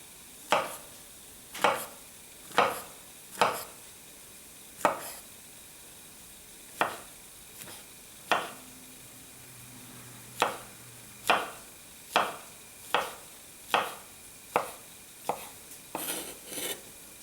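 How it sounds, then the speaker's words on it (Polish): A knife chops mushrooms on a cutting board in a slow series of sharp, distinct taps, with faint sizzling of onion in the background. "Teraz przechodzimy do pokrojenia naszych pieczarek."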